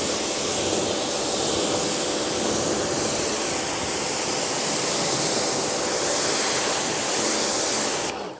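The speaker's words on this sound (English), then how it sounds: "Just rinse this and then we'll have a little look at the water action" Water spray rinsing the bonnet of a dirty Suzuki Ignis during a pre-wash, a loud, continuous hissing rush of water that holds steady for several seconds before cutting off.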